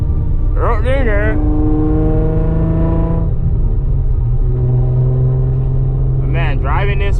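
Tuned naturally aspirated Nissan 350Z engine drones steadily from inside the car while driving, a loud continuous low rumble that rises and falls in pitch, with excited voices talking over it at the start and end.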